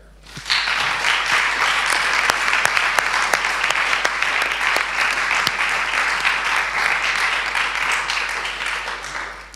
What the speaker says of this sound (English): So I'd like you to applaud her again.